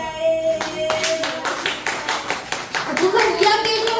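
Children in a church Sunday school class clap their hands in a quick, uneven burst of sharp individual claps, close and fairly loud, with a voice and a tonal sound mixed in.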